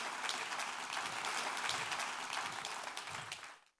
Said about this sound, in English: thank you for the introduction and the warm round of applause